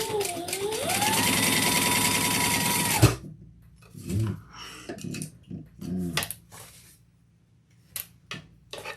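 A sewing machine runs steadily for about three seconds, stitching the sides of a fabric piece right sides together, then stops; quieter handling clatter and small knocks follow with no talk.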